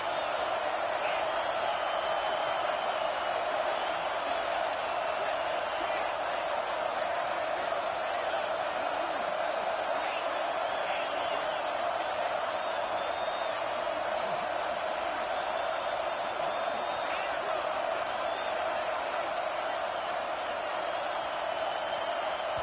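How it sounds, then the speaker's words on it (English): Steady roar of a large football stadium crowd on first and goal, loud and continuous with a sustained whistle-like tone throughout, no single voice standing out. "Fans are bringing the noise on 1st and goal."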